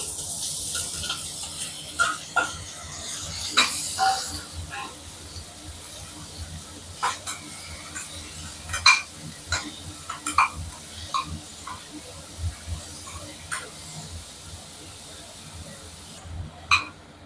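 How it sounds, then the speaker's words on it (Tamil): Mushrooms frying in hot oil for a homemade pizza topping: a soft, steady sizzle broken by scattered sharp clicks and scrapes of stirring, close by and alone. "இப்போ எண்ணெய் ஹீட் ஆனோடனே மஷ்ரூம் போட்டுக்கலாம்"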